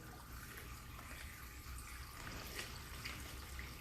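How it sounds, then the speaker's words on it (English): Brine poured into a bag over a whole turkey makes a faint, steady splashing trickle of liquid that runs for a few seconds without talk. "And so I'm going to start to pour."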